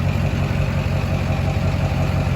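A built Duramax diesel truck with an S366 turbo, new injectors and a cold air intake runs with a steady, loud, low engine drone throughout, holding a constant pitch rather than rising in revs.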